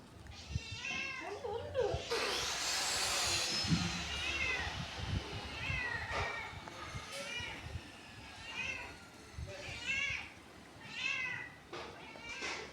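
A house cat waiting for fish meows again and again at close range, with several insistent, drawn-out cries spread across the stretch, while people talk in the background.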